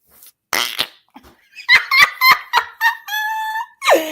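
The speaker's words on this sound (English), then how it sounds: "This pink one, this purple, this orange one doesn't fart as loud. This one though gets it hard." Flarp noise putty squeezed in its tub to make fart noises, a close, loud run of about eight short, squelchy, buzzing blurts, some stretched into longer raspy toots.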